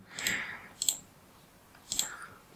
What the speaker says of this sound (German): Ich hoffe, das Klicken hört man nicht, wenn ich hier rumklicke.